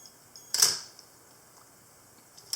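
An Olympus OM-10 film camera fires its shutter after the self-timer runs, giving one sharp, close mechanical click that quickly fades into quiet room tone.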